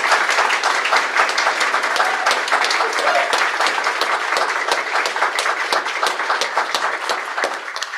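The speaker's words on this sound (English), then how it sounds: "So let's just do one more round of applause" An audience applauds at a university honors convocation, loud sustained clapping from a large crowd filling a hall, dense and even throughout with faint voices beneath.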